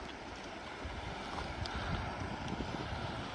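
An emergency-ministry rescue boat arrives on the Kuidusun River in the Oymyakon district of Yakutia: a steady, broad rush of motor and water noise mixed with wind buffeting the microphone, holding at an even level with no voices.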